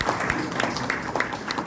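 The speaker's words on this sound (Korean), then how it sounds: "다시 한번 박수 부탁드립니다" A crowd applauds at a national assembly rally held in an indoor hall, with fairly faint, dense clapping from many hands running steadily through the brief moment.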